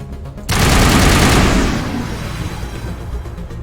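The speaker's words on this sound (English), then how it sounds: "Somebody down here shooting me?" Gunfire in the video game Mass Effect, a sudden loud burst of rapid automatic shots that holds for about a second, then tails off into rumbling decay.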